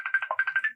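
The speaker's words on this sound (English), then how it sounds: "Why is my phone why is it ringing?" A phone ringtone chirps in a rapid, repeating electronic warble, bright and fairly close, with no voices.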